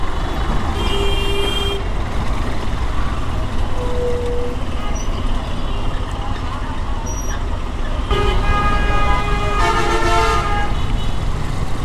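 Dhaka street traffic jam with several car horns tooting in short bursts over a steady rumble of idling cars, trucks and buses, horns near and far throughout.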